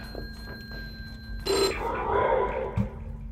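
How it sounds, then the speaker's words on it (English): A telephone rings in a pizza-delivery thriller game, a thin steady electronic tone lasting over a second before a loud burst of other sound cuts in. "the phone's ringing now"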